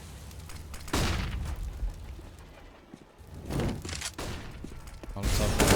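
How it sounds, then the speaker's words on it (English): Grenade blasts in a Counter-Strike match on the map Train: three broad booming bursts, each with a rumbling tail, spaced a couple of seconds apart, with a low steady din between them and no clear talk. "Lots of nades thrown in."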